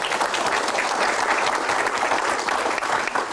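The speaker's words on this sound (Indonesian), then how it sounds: "Tepuk tangan." A large crowd claps continuously, a dense, even wash of applause with no pause throughout.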